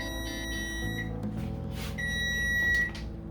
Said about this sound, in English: That is the timer for the rice.